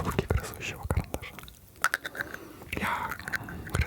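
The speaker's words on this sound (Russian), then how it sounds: "Это звуки грызущего карандаша." Close, crunchy bites and gnawing on a wooden pencil in an ASMR setting, irregular clicks and chews spaced through the clip, intimate and quiet with soft breathy whispering mixed in.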